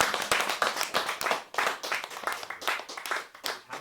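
An audience applauds, a crowd of hands clapping in a rapid, uneven patter that swells and dips without voices.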